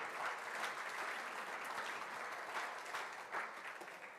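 An audience at a youth talent showcase claps steadily as the next performer walks on stage, a dense sustained applause from a full room, loud and even throughout with no voices standing out.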